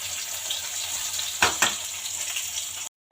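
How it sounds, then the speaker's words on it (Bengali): Bitter gourd and potato frying in a pan at home, a steady close sizzle with brief bursts of louder crackle midway, no talking, cutting off abruptly at the end. "এদিকে এই যে উচ্ছে আলুটা ভাজা করছি"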